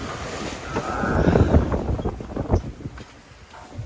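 Strong 15 to 18 knot wind buffets a sailboat as it enters a breakwater, with heavy microphone rumble and rushing gusts that swell in the middle and ease off toward the end, with no talking.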